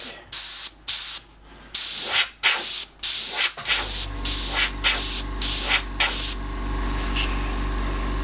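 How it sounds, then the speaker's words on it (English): An airbrush sprays light grey paint mist over a landscape painting above the horizon line, in repeated short hissing bursts that give way to a steadier continuous hiss, close and fairly loud with no talk. "I'm going to mist above our horizon line with a bit of grey"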